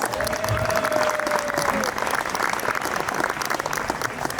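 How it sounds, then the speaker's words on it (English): Crowd applause at the 131st Midsummer celebration in Sveadal, a dense, steady wash of many hands clapping throughout, with a brief whistle-like tone early on and faint voices mixed in. "Yes, clap for that."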